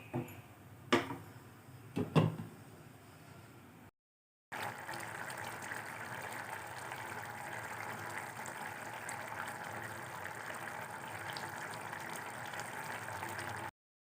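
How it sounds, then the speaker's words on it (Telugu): A covered pot of tangy prawn curry with drumsticks and raw banana boils on high heat, heard as a steady close hiss of bubbling after a few metallic clanks and a brief silence. "మూత పెట్టుకొని హైలో బాయిల్ చేసుకోవాలి"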